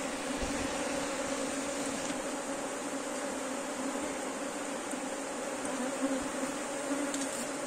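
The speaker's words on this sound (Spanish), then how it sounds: "Están muy bravas las abejas." A dense swarm of bees buzzes loudly and continuously, a steady agitated drone with no pauses and no voices.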